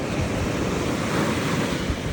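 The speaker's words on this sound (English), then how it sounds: "It's like the waves play with the people, you know what I'm saying? Rolling around with them." Ocean surf rolling in steadily at sunset, a broad continuous roar of breaking waves mixed with wind buffeting the microphone, loud and unbroken with no voices.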